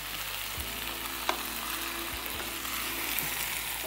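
Chicken masala with capsicum frying in a pan, sizzling steadily and close while a spoon stirs it, giving a few soft scrapes and knocks against the pan, with no talk.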